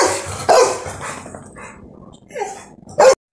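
Dogs bark in a few sharp bursts, with loud barks near the start and a strong pair close to the end and quieter yips and growls in between, all close by and with no talk over them.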